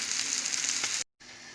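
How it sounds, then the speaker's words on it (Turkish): Steady crackling sizzle of anchovies frying in hot oil in a pan, close and continuous, broken by a brief moment of silence before the sizzling resumes. "şöyle kızarttım diğer tarafını çevirdim"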